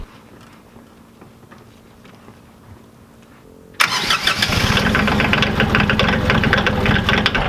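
An old tractor engine cranks and catches after a few quiet seconds, then settles into a loud, steady idle as it warms up.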